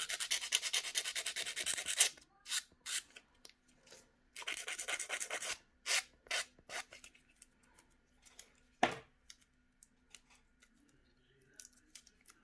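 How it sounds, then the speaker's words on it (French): Nail file rasping against false nails from a complete press-on nail kit, close and loud with a long scrape, a run of short strokes, then another long scraping burst and scattered softer strokes. "Je vais essayer de le retailler juste un petit peu avec ma lime."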